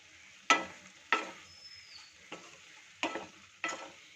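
Moong dal sautéed with turmeric, chilli and Kashmiri chilli powder in a pan, quiet background with five distinct stirring bursts, each a brief scraping sizzle that fades, no talking.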